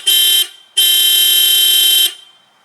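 Two loud, close honks from an aftermarket HELLA Sharptones car horn on a 2008 Pontiac Vibe: a short blast, a brief pause, then a longer sustained one before it stops.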